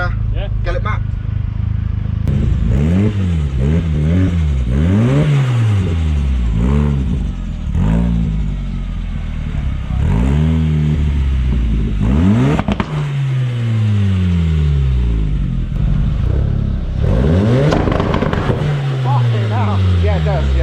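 A VAG 1.8 20V turbo engine swapped into a Toyota MR-S revs repeatedly in rising and falling sweeps, loud and close, with short pauses between blips, while people talk over it.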